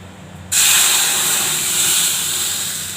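Tempering hits a pan of moong dal with a sudden loud sizzle that settles into a steady, close, sustained hiss, with no talking over it.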